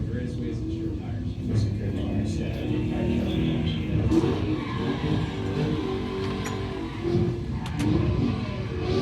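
A car engine revs hard and roars continuously, with tires screeching and spinning underneath; people talk over the noise.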